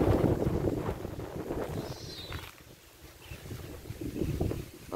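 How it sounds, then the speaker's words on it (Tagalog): Strong, gusty wind buffets the microphone in steady roaring waves, easing briefly in the middle before surging again, loud and continuous with no talk. "Pabugso-bugso yung hangin."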